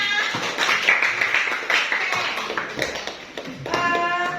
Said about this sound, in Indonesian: Semangat, tepuk tangan semuanya.